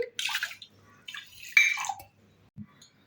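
Water poured into a pot of washed foxtail millet for soaking, heard as two short splashy pouring bursts close by, followed by a faint drip and a small knock.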